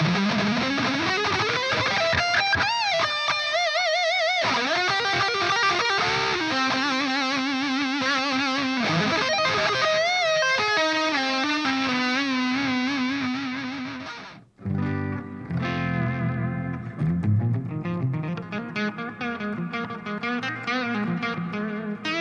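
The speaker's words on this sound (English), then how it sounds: "that's how the Parallel Axis Distortion sounds" Electric guitar played through a Seymour Duncan Parallel Axis Distortion pickup rips through distorted solo leads with bends and sustained notes, then shifts into lower chugging riffs after a brief break.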